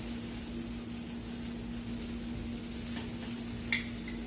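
Bacon strips on a grill, about to be flipped while cooked for burgers, sizzle steadily and close up, a continuous crackling hiss with a low hum beneath and one brief sharp scrape near the end.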